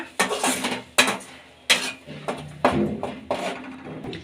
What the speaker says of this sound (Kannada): ಚೆನ್ನಾಗಿ ಇದನ್ನು ಮಿಕ್ಸ್ ಮಾಡ್ಕೊಡೋಣ